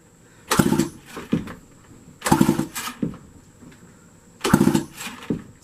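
The starter cord of a chainsaw assembled from junk parts is yanked three times with a spark test, each pull a close, rasping burst followed by a recoil rattle, spaced about two seconds apart.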